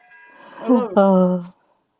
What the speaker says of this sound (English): It's the clock tower behind me.